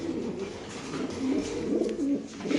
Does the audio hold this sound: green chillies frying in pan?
no